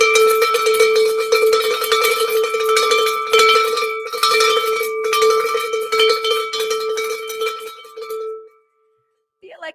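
A handheld cowbell rung repeatedly in quick, uneven bursts, bright and loud up close, with brief pauses before it stops near the end; voices speak faintly around it.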